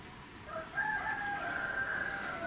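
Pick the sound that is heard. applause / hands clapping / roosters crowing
roosters crowing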